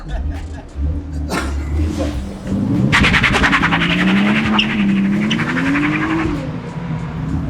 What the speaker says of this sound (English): It's burning tires on second gear.